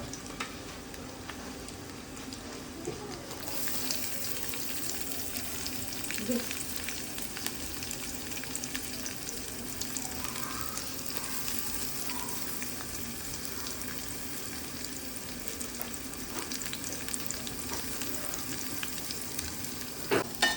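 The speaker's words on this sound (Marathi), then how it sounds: "कांदा आता जरा लालसर होईपर्यंत मस्त शिजवत आहो" Chopped onion frying in a pan after ginger-chili paste goes in for an Agri-style prawn dish, a steady close hiss and sizzle running throughout with occasional soft stirring scrapes and no talking.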